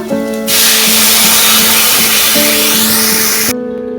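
Water poured into a hot pan of spicy pangas fish curry bursts into a loud, steady hiss that lasts about three seconds and then cuts off, over a background hum.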